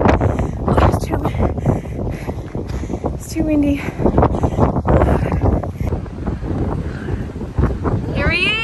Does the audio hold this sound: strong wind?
yes